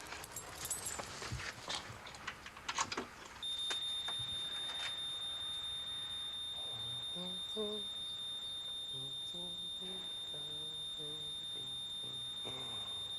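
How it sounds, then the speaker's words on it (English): A house burglar alarm blares a steady, piercing high electronic tone that holds unbroken for about ten seconds, with a voice and household noise underneath at first and music running quietly beneath the alarm. "You can turn the alarm off now, Margaret."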